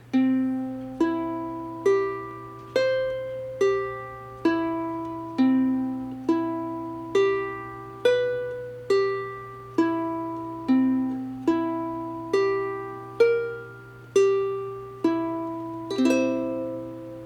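Plucked ukulele notes ring out one at a time in an even, steady rhythm, stepping through arpeggios at changing pitches, with a faint hum underneath.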